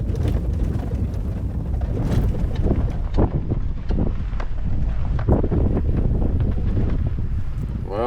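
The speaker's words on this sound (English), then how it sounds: "with a 40-mile-an-hour wind, you don't want to be getting wet." Strong wind of about 40 miles per hour blowing outdoors during an elk hunt in New Mexico, a loud continuous roar and buffeting against the microphone with no pauses.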